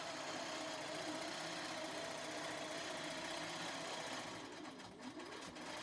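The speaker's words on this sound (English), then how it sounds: "I am going to let you watch the machine stitch out this design." A JUKI sewing machine stitches out a reverse appliqué design on a pillow cover, giving a quiet, steady mechanical whir with a fast rhythmic needle pulse throughout.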